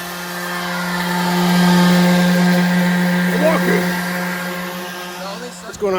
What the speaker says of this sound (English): It's an orbital sander, so you're not gonna leave streaks.